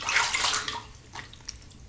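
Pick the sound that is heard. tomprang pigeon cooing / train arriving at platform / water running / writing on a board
water running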